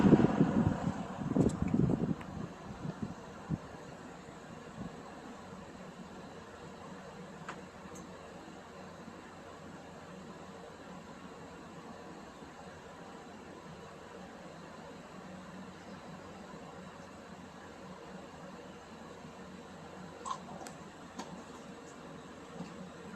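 An Eskimo box fan spins down after being switched off, a soft whooshing airflow that fades quickly into a faint, steady low hum and quiet hiss.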